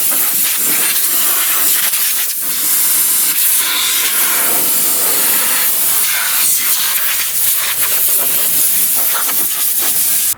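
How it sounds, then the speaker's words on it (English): Loud, continuous hiss of a compressed air blowgun blowing leaves and dirt out of a small engine, close up, with brief dips and surges as the airflow shifts. "I grab my blowgun and I reach in and blow out any leaves or dirt that is in there"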